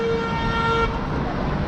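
A car horn sounds with a steady toot, held loud for about a second near a beach motel at Clearwater, over constant street noise and voices.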